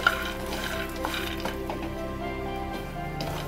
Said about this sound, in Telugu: ఇలా వచ్చేంత వరకు పల్లీలు వేయించుకోవాలి